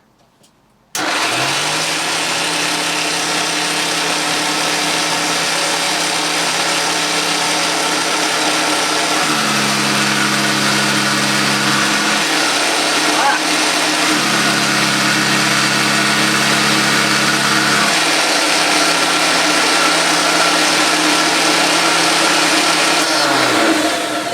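A Hoover Junior 375 upright vacuum cleaner with a badly clogged bag runs steadily and loudly on its own after switching on, a constant motor whine with a rising and falling hum partway through.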